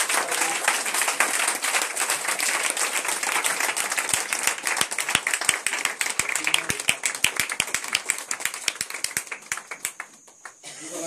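A church congregation claps loudly and densely for Jesus during a deliverance service, with sharp, fast hand claps that keep going the whole time and thin out slightly near the end.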